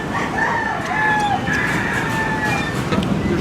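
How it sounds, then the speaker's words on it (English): Roosters crow and chickens call from boxes aboard a passenger boat in the Philippines, several drawn-out, overlapping crows standing out close and loud over a constant engine and crowd rumble. "There's chickens in these boxes."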